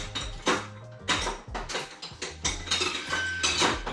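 Metal tools and parts clatter and clink continuously as someone rummages through a messy top box of a toolbox for a wrench extension during Ford F150 rear axle work, with irregular close rattles and knocks and no talking.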